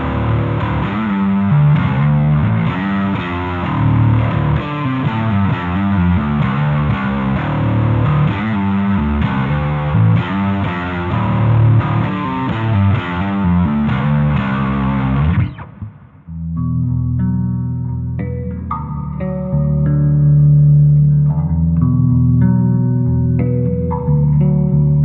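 Heavily distorted bass guitar tone with chorus and effects, played as a thick, driving riff for about fifteen seconds, then cleaner, sparser melodic notes ringing out, loud and upfront with no talk.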